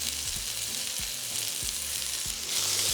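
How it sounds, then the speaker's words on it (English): Potatoes frying in hot oil in a pan, seasoned with garlic salt, make a loud, continuous crackling sizzle up close with soft rhythmic bumps underneath and no voices. "Once the oil is nice and hot, we're going to add our potatoes."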